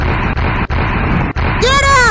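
Booming cannon blasts in a VR multiplayer pirate-ship scene, several heavy thuds spaced a fraction of a second apart, loud and close, with excited players shouting over them.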